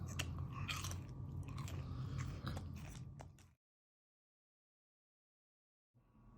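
Breakfast cereal is chewed up close with crunchy, irregular bites for about three seconds, followed by silence and then a faint return of sound.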